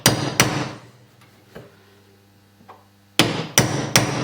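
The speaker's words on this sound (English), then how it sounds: "So the combination of those and the wood glue, I'm going to just punch them in." Sharp hammer taps punch pins into a wooden door liner being repaired. Two quick blows come first, then a quiet pause with faint knocks, then three more close, loud strikes.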